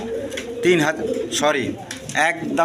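Pigeons coo at a farm pen, soft rounded calls repeating several times in close succession, with someone talking over them.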